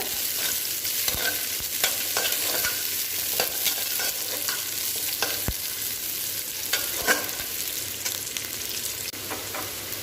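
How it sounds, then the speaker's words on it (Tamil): Garlic sautés in a pan for an egg kulambu after the onions. The oil sizzles steadily and a spoon scrapes and stirs in repeated close strokes, with no voices. "அடுத்து பூண்டு, இதையும் நல்லா வதக்கிக்கோங்க."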